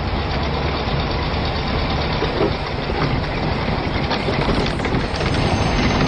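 A vehicle engine runs steadily with a dense, rumbling drone that stays loud and constant throughout, with no voices.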